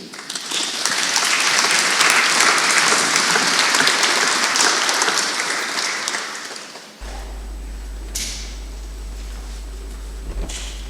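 An audience at an Armistice commemoration applauds students of a secondary school: dense, steady clapping that fills the first seven seconds, then gives way to quieter room noise with a low hum and a couple of faint knocks.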